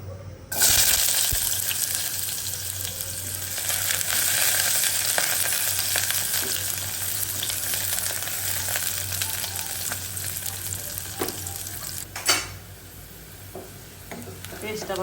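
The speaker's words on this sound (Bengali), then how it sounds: "আদা রসুন পেঁয়াজ ব্রাউন করে নিচ্ছি।" Ginger, garlic and onion brown in hot oil with a steady close sizzle and the occasional scrape of a stirring spoon, one sharp clatter standing out near the end; no talking.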